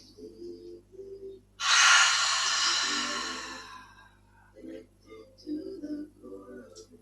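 A deep, forceful breath during a lower-body yoga stretch class, one long airy breath rising sharply and fading over a couple of seconds, between short stretches of soft talk from an instructor.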